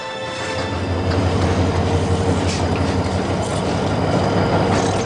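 A train runs along rails in Africa, a steady, close rolling rumble with faint wheel clatter and squeal, continuous throughout with no voices.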